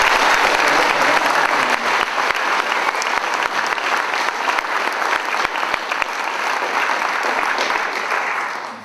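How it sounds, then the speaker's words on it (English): Sustained audience applause at an Embry-Riddle news conference, a thick, steady roar of many hands clapping with sharp individual claps standing out, lasting nearly nine seconds before tapering off. "I'd like a special round of applause."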